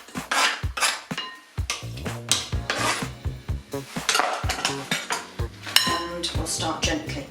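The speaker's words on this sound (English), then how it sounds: "And start mixing slowly, otherwise you'll get a snowstorm in your face" Flour and lemon zest are mixed into lemon drizzle cake batter in a bowl, with close, rhythmic scraping and clinking of a utensil against the bowl in repeated strokes.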